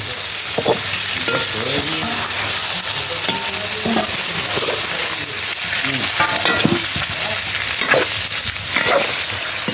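Insects fry in hot oil with a loud, continuous sizzle and crackle, while scraping stir strokes are heard close by throughout.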